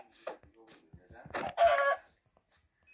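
A Minecraft chicken gives a few short clucks in quiet game surroundings, with a voice speaking briefly among them.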